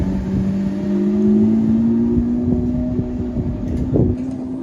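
An Audi or Lamborghini Aventador sports car rolls up at the Circuit du Castellet during an endurance race, its engine a loud close drone with a rising pitch and gentle revving, no voices.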